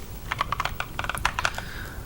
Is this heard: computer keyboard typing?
yes